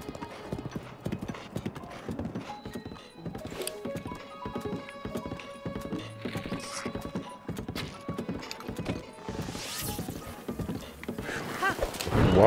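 Horse hooves gallop in a steady, rhythmic clip-clop across the whole stretch in the video game The Legend of Zelda: Breath of the Wild, played in master mode. The hoofbeats are loud and close, and noise swells at the end.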